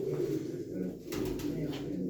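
A blue tumbler pigeon up for auction coos softly and repeatedly, a low throaty burbling that rolls on close to the microphone throughout.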